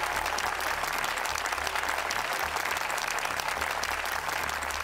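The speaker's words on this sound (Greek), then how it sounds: "Ένα χειροκρότημα για τον Γιάννη!" Studio audience on a Greek game show applauds contestant Giannis, a steady, dense clapping that fills the room at even loudness for about five seconds, with no voices over it.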